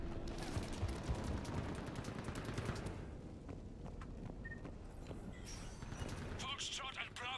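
Sustained gunfire in a Mass Effect 3 battle: dense, crackling rapid shots fill the first few seconds and then thin into scattered pops under a steady combat rumble, with faint voices mixed in.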